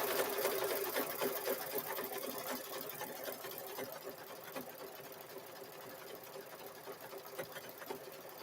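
An embroidery machine stitches a zipper bag held in the hoop, a continuous, fairly quiet run of rapid, regular needle strokes with a soft mechanical whir throughout.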